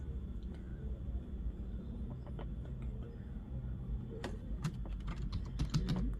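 Keys clatter on a computer keyboard during Android app development, with soft scattered taps that grow into quicker bursts toward the end over a low background hum. No voice is heard.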